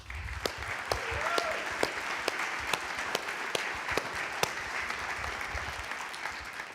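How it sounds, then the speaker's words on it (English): A church congregation claps to welcome James Furlong, a moderate room-wide applause with a few sharp, distinct claps standing out, and a brief murmur of voices underneath. "The clapping wears off soon."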